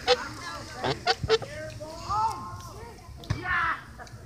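A pet goose honks several times up close while splashing about in a puddle at a playground, giving short nasal calls with quiet pauses between them.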